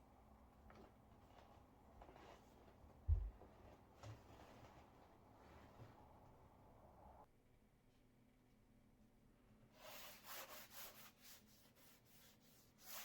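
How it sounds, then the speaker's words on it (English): A foam sanding block rubs over a gesso-coated wood panel in repeated soft strokes, faint and close, with a brief bump partway through and brighter scratchy passes toward the end. "Here I simply use a foam sanding block"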